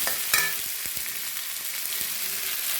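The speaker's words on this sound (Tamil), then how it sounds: "கறிவேப்பிலை இது வந்து ஒரு ரெண்டு நிமிஷம் நல்லா நம்ம வதக்கலாம்" Onion and curry leaves sautéing in a pan, a steady soft sizzle with a few brief scraping stirs, close and alone with no talk.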